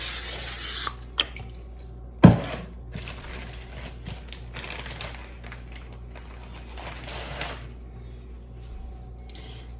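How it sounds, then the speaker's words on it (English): Cooking spray hisses briefly onto parchment paper in a home kitchen with a short sharp burst, followed by quiet handling noises and faint rustling. "First, I am going to spray the parchment paper."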